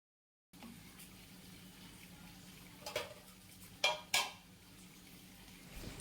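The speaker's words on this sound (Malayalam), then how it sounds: "പിന്നെ ഇറച്ചി മസാല, ഗരം മസാല, പിന്നെ ആവശ്യത്തിന് ഉപ്പ് ഇട്ടിട്ട് നല്ലോണം ഒന്ന് വഴറ്റിയെടുക്കുകയാണ്" Beef fry masala with coriander powder, garam masala and salt sautéing in a pan, a faint low sizzle under a few distinct scraping and clinking strokes of a spoon against metal, close by.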